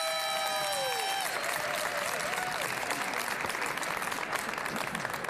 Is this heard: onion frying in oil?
no